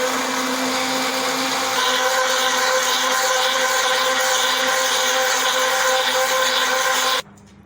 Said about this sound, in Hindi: अब इसको ग्राइंड कर लेंगे।